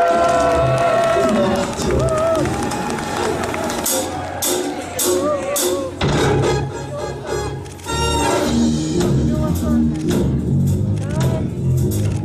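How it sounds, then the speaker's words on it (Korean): A festival audience at an international university song contest in Yeoju cheers and applauds loudly as a band takes the stage, with crowd noise, shouts and music blending into a dense, continuous roar. "큰 박수로 환영해 주세요."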